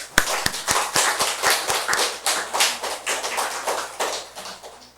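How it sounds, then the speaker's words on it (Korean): Welcoming applause for a newcomer at a church service, starting with a few sharp claps and swelling into steady clapping from the congregation, moderately loud and continuing throughout without talk. "환영의 박수 한번 보내주세요."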